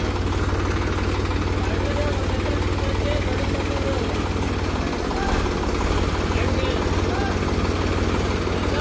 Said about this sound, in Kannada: ಸೊ ಗಾಡಿ ಚಾಲೂ ಮಾಡತ್ತಾರ. ಚಾಲೂ ಆಯ್ತು ಗಾಡಿ.